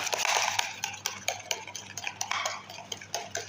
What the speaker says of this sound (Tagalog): Haluin lang natin guys.